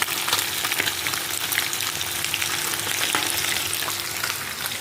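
Çinekop (bluefish) fries in a pan, sending up a continuous close crackling sizzle with a few sharp pops and no voices.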